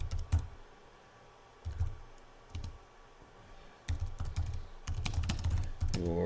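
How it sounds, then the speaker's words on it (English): Bursts of clicking keystrokes on a computer keyboard, typed in short uneven runs with pauses between them, close and fairly quiet, with no talk over them. "It's the typing and talking."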